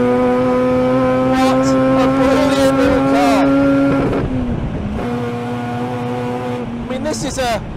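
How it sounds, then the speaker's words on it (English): The 1981 Spa 24 Hours-winning TWR Mazda RX7 race car revs loudly and close by, its engine note climbing and dropping in swoops and settling at a held idle, while someone talks over it. "they would be revving it to 9, but in deference to the car's age and its owner, we're not quite working it that hard"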